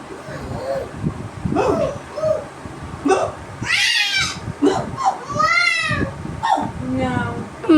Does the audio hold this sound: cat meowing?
yes